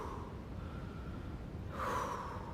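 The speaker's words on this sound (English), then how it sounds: "you want to listen for her heavy breathing" A climber's heavy breathing in the climbing video game Cairn, a steady breathy rasp that swells into a longer, louder exhale near the end, close and without talk.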